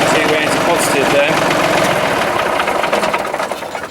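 A Massey Ferguson 135 tractor engine running with a loud, rough, rhythmic diesel chug that eases and fades slightly near the end, while a voice speaks over it.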